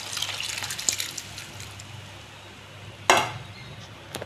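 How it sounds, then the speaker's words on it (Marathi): Water is poured over moth beans in a pan while misal is being made. A faint, steady watery rush fades out, then a short splash comes near the end. "आता त्यांना टाकस मी मटकी आणि तेवढं पाणी जे करलं होते"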